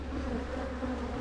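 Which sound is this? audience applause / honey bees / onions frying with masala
honey bees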